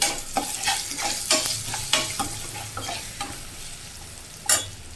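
A spiced pasta mixture with chili powder, garam masala and salt being stirred and fried in a pan for egg pasta, with irregular scraping stirs over a steady close sizzle and no talking.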